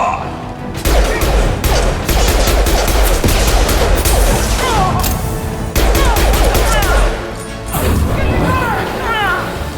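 Loud, dense gunfire fills a Mass Effect 2 video game battle: sustained automatic bursts and impacts with brief gaps, while voices call out over the fighting.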